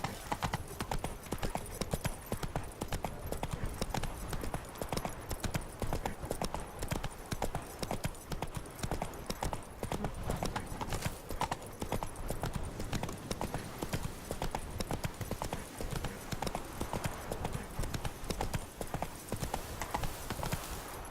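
Geralt's horse Roach trotting in The Witcher 3, hooves clip-clopping in a steady, continuous rhythm throughout, fairly close and even in level, with a faint ambient bed of wind and outdoor game atmosphere behind.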